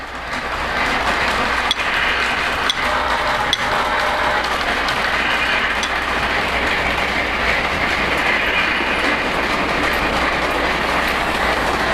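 A Polar Express model train pulling a new flatcar with a bell runs along the track with a steady, continuous rolling rumble and faint clicking, close and unbroken for the whole stretch.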